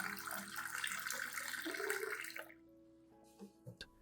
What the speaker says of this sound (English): add 500 milliliters of clean, room temperature water to dilute the solution.